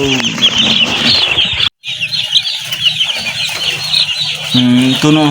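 Dense high-pitched cheeping from many two-day-old chicks fills the whole clip, with a few lower clucks from hens mixed in and a brief silent gap.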